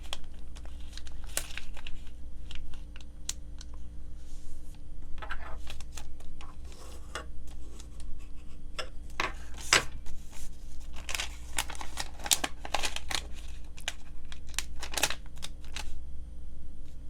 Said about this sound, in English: rotate the model and fold these 2 edges to the center as well